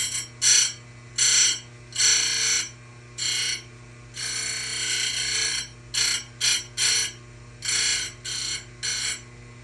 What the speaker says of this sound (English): I like this grinder better than mine,